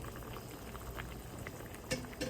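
Water with sardines boils in a pot for a comfort-food soup on a rainy morning, giving a faint, steady bubbling simmer with a couple of sharper pops near the end.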